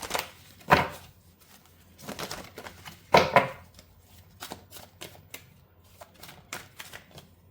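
A tarot deck being shuffled, with two louder riffling bursts and a run of softer, scattered card flicks and taps in a quiet room.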